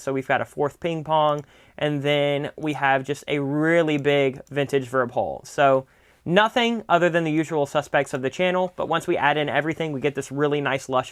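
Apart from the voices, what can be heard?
No everyday noise stands out behind the speech.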